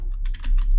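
Quick run of keystrokes on a computer keyboard while code is being entered, a handful of crisp close clicks in under a second with no voices.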